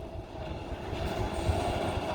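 A train rolls through a road crossing in a no-horn zone, a steady loud rumble of railcars with low wheel clatter throughout, no horn sounding.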